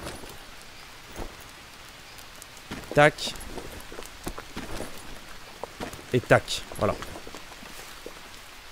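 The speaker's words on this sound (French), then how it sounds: "Bon, ça va pas s'arrêter de pleuvoir de sitôt." Steady rain falling in the Green Hell jungle, a soft continuous hiss under someone talking, with a few sharp nearby clicks and taps.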